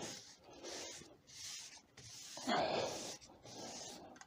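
Yorkshire Grit abrasive paste being rubbed onto a turned wooden bowl, giving repeated soft scrubbing strokes in a steady back-and-forth rhythm, close and fairly quiet with one louder pass midway.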